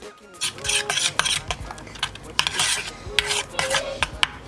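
A spoon scrapes and rasps around a pot of aloe vera oil heating on medium-high heat in steady strokes, with occasional sharp metallic clinks and a faint sizzle underneath.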